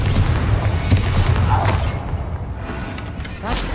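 A Confringo explosive spell bursts in Hogwarts Legacy, giving a heavy rumbling boom over low combat noise, followed by a quieter stretch and another short impact near the end.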